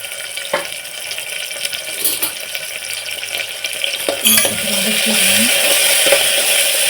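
Mint, coriander leaves and tomato sautéing in a pan, giving a steady close hiss that swells louder partway through, with a few light clinks and stirring knocks.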